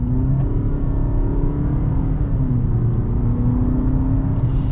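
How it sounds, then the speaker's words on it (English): A 2022 Nissan Altima Midnight Edition AWD with a CVT pulls away on a snowy road, its steady low engine drone rising gently in pitch through the run, with a constant rumble and no talk. "We're gonna be getting our acceleration here with the Altima"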